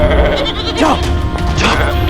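Goats bleating in a rural field setting, several wavering cries rising over a steady background, with two prominent calls spaced about a second apart.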